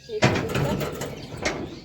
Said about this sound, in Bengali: দরজাটা লাগিয়ে দিই